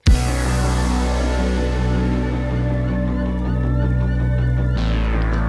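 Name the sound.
guitar chug in synthwave track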